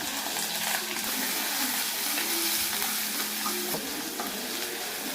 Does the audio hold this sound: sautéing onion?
yes